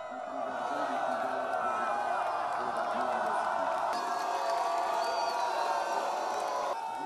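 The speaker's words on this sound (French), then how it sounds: "Au passage des différentes troupes, la foule est en délire." A dense crowd roars and whoops without a break as military troops parade past at a national army celebration, the cheering loud and steady throughout.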